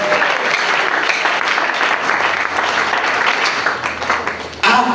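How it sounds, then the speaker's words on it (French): A church congregation bursts into sustained, dense applause acclaiming Jesus Christ, loud and steady for several seconds before it cuts off abruptly near the end, with no speech over it. "Est-ce que tu peux acclamer Jésus-Christ?"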